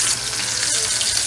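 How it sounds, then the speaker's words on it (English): Salmon pan frying in a home kitchen, a steady close hiss of sizzling oil that runs unbroken and loud throughout. "I'm pan frying some salmon."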